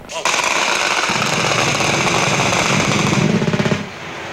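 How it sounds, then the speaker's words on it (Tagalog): Loud, close machine-gun fire in an armed conflict near a house, a sustained burst of rapid shots that rattles almost without pause for several seconds before stopping. "Nagkalat daw ang sundalo sa labas ng bahay nila at walang hinto ang putukan."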